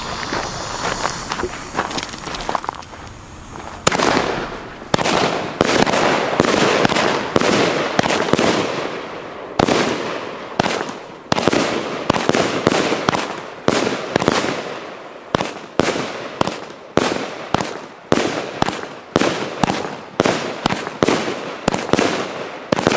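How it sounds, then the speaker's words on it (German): Skreti firework battery by Klasek: a hissing, roaring launch for the first few seconds, then a long run of loud, sharp bangs in a steady rhythm, fired one after another outdoors. "jetzt im Test die Skreti-Batterie von Klasek"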